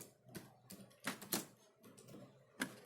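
Keys struck on a computer keyboard during C# coding, a few scattered clicks and short bursts with pauses between, close and fairly quiet, no talking.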